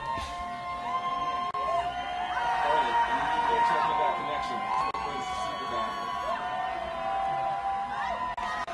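A rowdy crowd at a Lindenwood University rugby match roars and cheers steadily at moderate distance, shouts and whoops rising and falling, while a commentator speaks over it.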